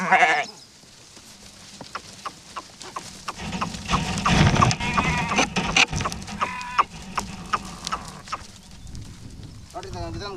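A pregnant sheep bleats in a livestock pen, with wavering calls near the start and end over shuffling, clattering movement and a person talking nearby.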